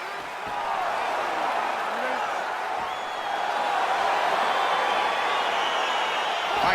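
Arena crowd in the EA Sports UFC 4 fighting game roaring and cheering as a bout begins, a steady broad wash of crowd noise that swells slightly in the second half.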